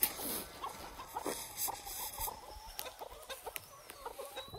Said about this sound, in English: They really are great chickens